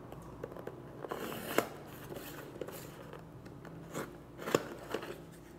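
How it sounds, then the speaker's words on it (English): A small new pocket knife cuts a little piece out of a material, giving faint, quiet snips and crunches spread across the stretch, with a few sharper cuts standing out. "I'm gonna use my new knife to cut me out a little widget that I wanna stick in there"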